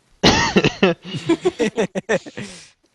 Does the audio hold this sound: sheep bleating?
no